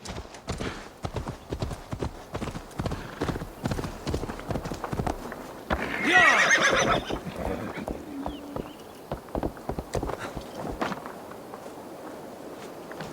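Steady clip-clop of horse hooves walking throughout, with a brief whinny partway through, in the video game Assassin's Creed Valhalla.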